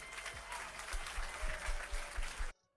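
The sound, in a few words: audience clapping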